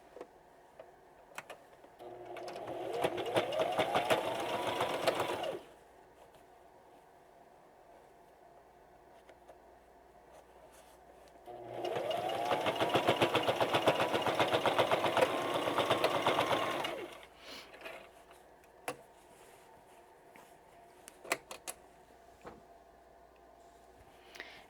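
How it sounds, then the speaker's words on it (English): A sewing machine stitches a straight quarter-inch seam on a pencil pouch in two steady bursts of about four to five seconds each, separated by a quiet pause. Light clicks and handling taps follow the second run. "we're going to sew straight across, 1/4 inch seam, back stitch when you start and stop"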